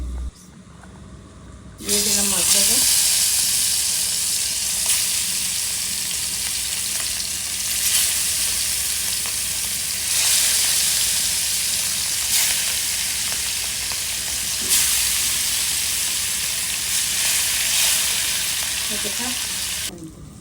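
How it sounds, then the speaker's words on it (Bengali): Rohu fish pieces dropped into hot oil for a fish bhuna, a loud, close, continuous sizzle that bursts on after a short quiet start and holds steady to the end, with faint talk early on. "দিয়ে দিলাম তেল মাছ ভাজার জন্য"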